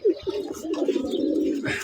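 Pigeons in a loft, in a lively mood before release, give a short run of soft, throaty coos from close by, with faint rustling behind.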